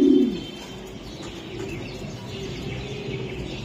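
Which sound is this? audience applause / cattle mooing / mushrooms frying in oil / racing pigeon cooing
racing pigeon cooing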